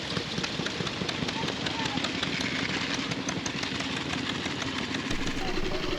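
A pre-1919 vintage motorcycle engine runs steadily nearby with a busy, rattling mechanical chatter throughout, and a voice is heard over it.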